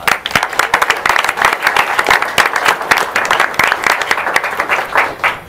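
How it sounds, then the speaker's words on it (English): A school board meeting crowd gives a long, dense round of applause for student academic all-stars, many hands clapping steadily and loudly with no talking over it. "Let's give them a round of applause."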